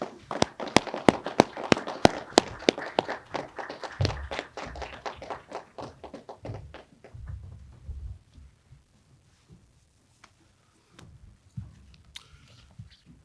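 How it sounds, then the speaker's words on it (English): Applause for graduating seniors at a SUNY ESF December 2020 commencement: a thin, uneven patter of claps from a small audience that thins out halfway through, leaving a few scattered claps and quiet. "Let us applaud the accomplishments of these graduating seniors."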